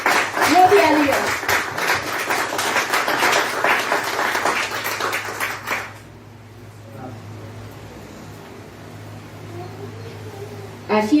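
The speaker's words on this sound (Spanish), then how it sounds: "Dale un fuerte aplauso al" A church congregation claps loudly and steadily at a sermon for about six seconds, with voices mixed in, before the applause cuts off to quieter room sound.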